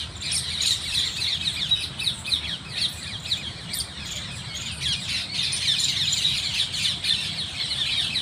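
Wild birds chirp, sing and squawk outdoors in the evening, a dense chorus of repeated sharp calls and trills layered over a low background hum, continuing steadily.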